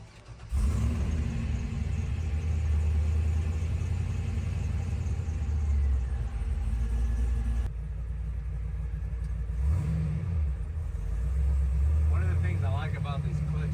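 A supercharged LS-powered C10 restomod truck with a twin-disc clutch drives down the road, its deep engine rumble steady and loud throughout, with a brief dip in revs midway before pulling again.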